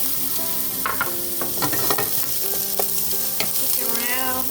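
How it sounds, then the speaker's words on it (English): Onions hitting a hot pan with garlic for a quick Asian spaghetti, a loud, close sizzle with intermittent stirring clinks and scrapes, continuous and without speech. "So next, going in my onions."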